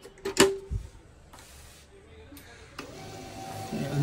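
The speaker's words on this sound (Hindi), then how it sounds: "अभी हम इसका टेस्ट प्रिंट देते हैं, वो निकाल के दिखाते हैं आपको।" An HP LaserJet P1102 monochrome laser printer runs a test page, with clicks and a mechanical clunk at the start and then a rising motorized whir as the paper feeds, close by.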